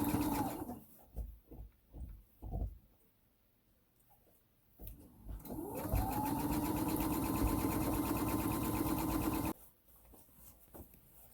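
A sewing machine stitches closed the opening in a bag lining, running in a steady motorized whir for several seconds after a few brief handling sounds, then stopping.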